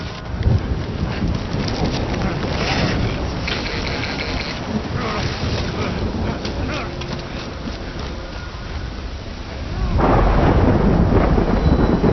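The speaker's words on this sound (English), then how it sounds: "Good thing it was raining." Steady rain hisses throughout, with rumbling thunder swelling near the end, in the video game Death Stranding; broadband and continuous, no voices.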